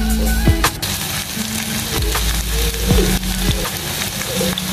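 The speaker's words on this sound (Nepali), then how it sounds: "तेल तातिसकेपछि चाहिँ चिकनलाई हालिदिनु होला प्यानमा।" Chicken pieces pan-frying in a little hot oil for butter garlic chicken, a loud, steady close-up sizzle with a few sharp knocks and clinks of the pieces being placed in the pan, no voices.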